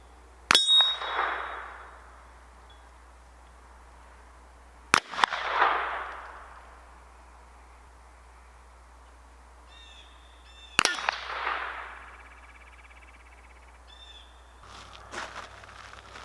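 Henry AR-7 survival rifle shots at a steel target downrange: three sharp cracks spaced roughly five seconds apart, each followed by a ringing metallic ding fading out, with quiet between and a faint clatter near the end.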